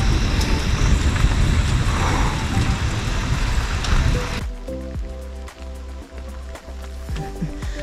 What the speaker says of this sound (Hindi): बारिश में यार फिर बढ़ गया।